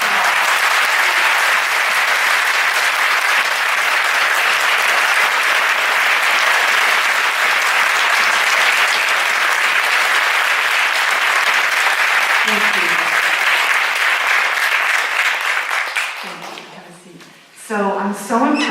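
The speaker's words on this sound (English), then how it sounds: "Could we please give them a huge round of applause?" A roomful of people at a school board candidate forum bursts into loud, sustained applause, dense clapping filling the space for about fifteen seconds before tapering off as a voice begins speaking.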